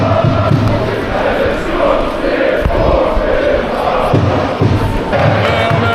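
A football crowd at a Žalgiris match chants and cheers, a dense, steady roar of many voices with rhythmic swells and occasional thuds, continuous throughout and fairly loud.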